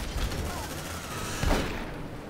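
A sentry gun in Aliens: Dark Descent fires rapid bursts of close, crackling shots, with a louder burst about halfway through, amid busy game noise.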